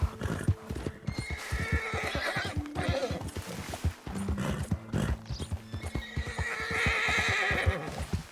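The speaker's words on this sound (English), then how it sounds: "O cavalo já tá começando a ficar cansado" A horse gallops in Red Dead Redemption 2, with steady clip-clop hoofbeats, snorting and whinnying close up over a background game soundtrack.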